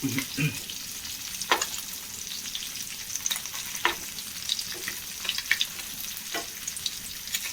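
Small sardines sizzle steadily in a pan of hot oil, a close, continuous crackle broken by sharp pops and occasional stirring clinks, with no one talking.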